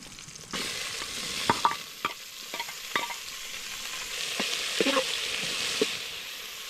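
Tomatoes are sautéed with onions in a pan for sinigang, a steady close sizzle of frying with repeated scraping and stirring knocks from a utensil against the pan.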